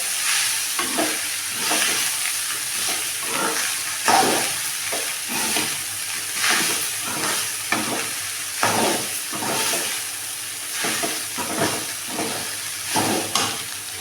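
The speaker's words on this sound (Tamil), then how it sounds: "நல்லா போட்டு கலந்துடுங்க" Rice upma being stirred in a frying pan on the stove, with a steady sizzle and repeated scraping strokes of a spoon in a regular rhythm, close and continuous for the whole stretch.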